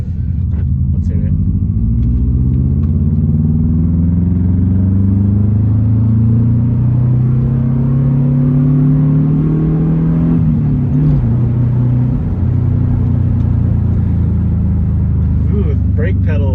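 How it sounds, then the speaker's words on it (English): Manual Subaru Forester XS driving and accelerating, a loud steady engine drone with rising and falling pitch as it revs, road rumble and cabin noise throughout. "There's a lot of noises coming from everywhere in this car."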